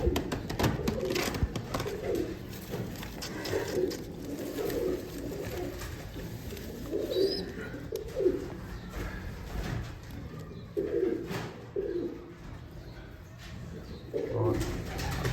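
Rare-bloodline pigeons coo in repeated low, throaty phrases at a steady rhythm, close by, over a soft background hum.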